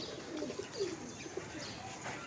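Several pigeons coo close by in low, throaty rolling phrases that repeat irregularly over a steady murmur, with no talking.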